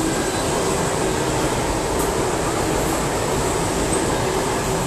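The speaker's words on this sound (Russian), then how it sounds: "Сейчас у нас электричка пройдет рядом" Electric commuter train passing close by at the edge of a forest, a loud steady rumble and roar of rail cars filling the whole stretch with no letup.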